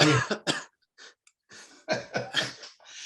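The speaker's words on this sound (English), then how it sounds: "I just got to do a quick cough." Several harsh coughs and throat clearings come in short bursts, separated by brief quiet pauses, close to the microphone.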